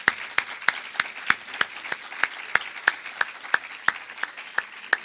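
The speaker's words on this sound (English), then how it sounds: "Let's give a round of applause to our panelists." Audience applause for panelists at the close of a panel discussion, heard as steady, evenly spaced claps with a thin crowd texture for about five seconds, no talking.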